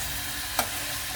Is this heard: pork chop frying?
yes